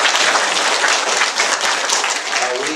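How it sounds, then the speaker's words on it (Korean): A church congregation claps together in a dense, continuous wash of applause that fills the room and holds steady for several seconds. "우리 박수 한번 치겠습니다."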